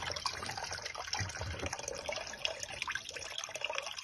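Engine coolant from a Chevrolet Aveo 1.5 draining into a bucket, a continuous splashing, trickling pour of liquid, close and steady throughout, with no talking.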